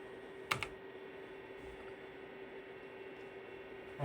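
A key pressed on a Toshiba T3200SX laptop keyboard gives a quick double click, crisp and close, then only a steady electrical hum remains.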